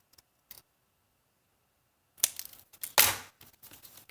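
Paper snipped with scissors while making a pocket letter: after a near-silent pause, a few sharp close cuts and crunches come in quick bursts, loud and with no talk.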